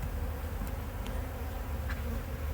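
A steady, dense buzz of many honey bees on a hive frame fills the clip, a continuous low hum with no voices, close and even throughout.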